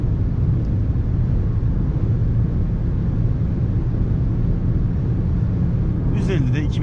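A Seat Ateca SUV with a 1.6 TDI 115 hp diesel engine cruises at highway speed near 150 km/h, giving a steady, loud, low road-and-engine drone inside the cabin, with a faint brief chirp near the end.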